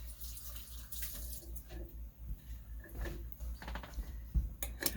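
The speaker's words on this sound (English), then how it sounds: "I'm going to rinse it off real quick." A dusty glass jar rinsed under a running kitchen tap, water splashing steadily for several seconds with small clinks and knocks of the jar, fairly quiet and close.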